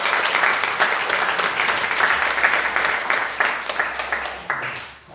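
A church congregation applauds warmly, dense continuous clapping from many hands that holds steady, then tapers off and fades out at the end.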